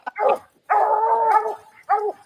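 A high-drive dog gives three short vocal bursts, barking with whining, whimpering tones. The middle one is the longest, and the sounds are close and fairly loud.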